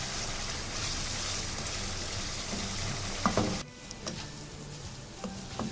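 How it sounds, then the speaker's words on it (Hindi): Spicy chicken tikka fries in oil in a kadai, giving a steady close sizzle that drops away partway through, followed by a few stirring clicks and scrapes with no talk. "ऑयल डालने के बाद इसको अच्छी तरह मैं भूनूंगी।"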